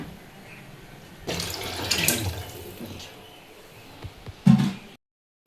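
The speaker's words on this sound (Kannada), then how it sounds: "ಕೊಡ್ದಾಗ ನೀರು ತುಂಬ್ಕೊಳಕತ್ತಾರ ರೀ" Tap water running into a pot in a home kitchen, a steady gushing rush that starts abruptly and carries on for several seconds before a brief clunk and a cutoff.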